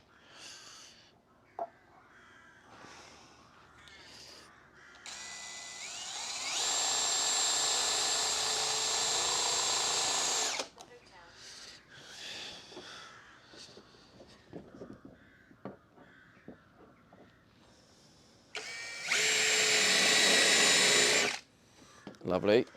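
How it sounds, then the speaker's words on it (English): A power drill runs in two loud sustained bursts during a van build, with crows cawing and scattered clatter and handling noises in between. "I'm going to move this out of the way so you don't have to hear the drill too loud."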